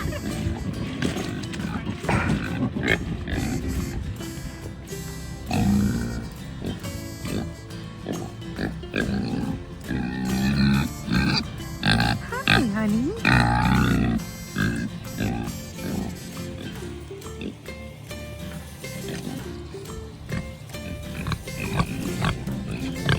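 Pigs grunt and oink repeatedly in a farm pen during a new boar's homecoming, loud and close, with a busy mix of snorts and squeals and someone talking intermittently over them.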